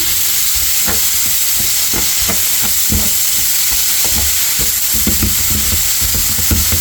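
Mashed banana and cream are stirred into toasted bread and dates in a pan for Yemeni masoub, a steady close sizzling hiss with repeated soft scraping strokes of the spoon.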